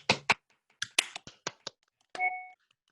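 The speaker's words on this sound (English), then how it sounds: "Everybody clap." A handful of sharp, separate claps or hand taps in an uneven rhythm, close and fairly faint, followed by a short ringing tone.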